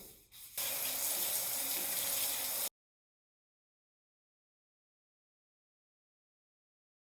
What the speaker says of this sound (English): I'm gonna go rinse this out.